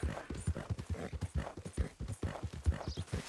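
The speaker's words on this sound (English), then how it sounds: "Okay, go, horse. You can go faster than this." A horse trots along in Red Dead Redemption 2, its hooves clip-clopping in a quick, regular rhythm of distinct thuds, moderately loud and close, with faint game ambience behind.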